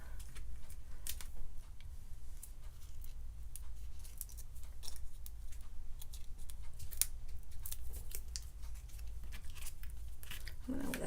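Scissors snipping a small piece out of a folded paper Christmas card, a series of close, crisp cutting snips and paper rustles at steady volume, with no speech.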